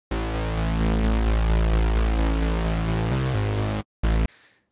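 A Serum saw-wave bass with seven unison voices at 0.07 detune, a thick, buzzy, sustained low tone held loud for about four seconds with a slight pitch shift near the end, then a short stab and a fading tail.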